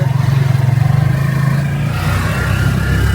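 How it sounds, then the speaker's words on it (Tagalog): Motorcycle engines on a rough, bumpy downhill rural road in Coron, a steady close mid-pitched drone with pulsing rhythm that shifts as the bikes pass each other. "Tapos magsasalubong pa ang dalawang motor."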